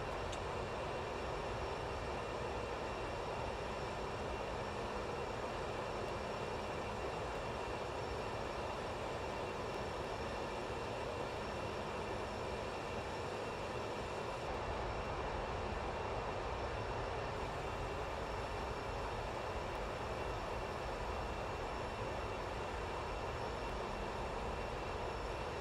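Steady, loud MD-11 jet engine drone at top of climb in Microsoft Flight Simulator 2024, a continuous broadband roar with a faint high whine running unchanged throughout, no voices.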